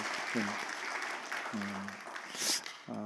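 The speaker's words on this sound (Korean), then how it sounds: "우리 박수로 한번 격려해 주시면 감사하겠습니다" A Korean church congregation in Orange County applauds during an Easter service, a scattered, moderate patter of hands running beneath intermittent voices.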